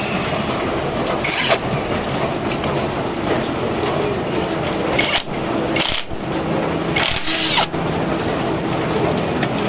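An impact wrench works on the side stand of a Honda Beat V2 scooter, giving a loud, steady rattling whir with a few sharp breaks, close by and heard alone without talk.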